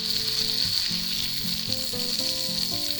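Onions and mushrooms sizzle loudly in a hot pan alongside a ribeye steak, a close, unbroken frying hiss with faint stirring underneath and no talking.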